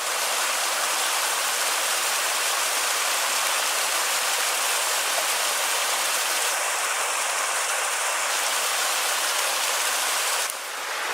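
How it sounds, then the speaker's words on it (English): A small waterfall beside a foothills hiking trail in March, a steady broadband rush of falling water that holds close and even throughout, briefly brightening near the end. "Just came across that little waterfall."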